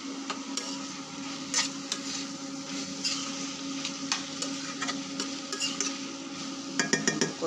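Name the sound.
sautéing dried fish with Malabar spinach in a pan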